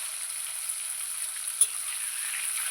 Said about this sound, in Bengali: আমার মাছটা ভালো করে ভাজা হয়ে গিয়েছে দেখুন বন্ধুরা কত তেল বার হয়েছে